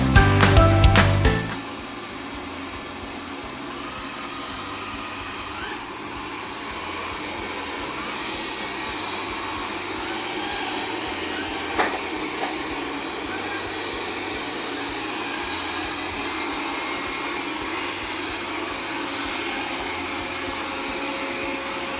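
Viomi SE Xiaomi robot vacuum cleaner running as a steady, fairly quiet suction whir, after a short louder clatter at the start, one faint click midway, with no talk.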